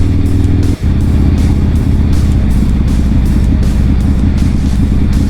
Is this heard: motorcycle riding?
yes